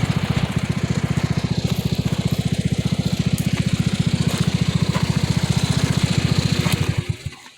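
A Hammerhead GTS 150cc go-kart engine idles close by with a steady, loud, rapidly thumping putter, then sputters and cuts off at the end.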